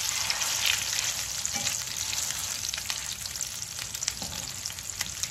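A venison burger patty sears in hot grease in a pan, giving a loud, dense, continuous sizzle with crackling pops close by and no talk.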